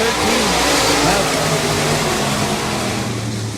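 Several race cars roar around the Cotton Bowl Speedway oval during a race, a dense, loud, continuous engine drone with overlapping revving tones from the pack.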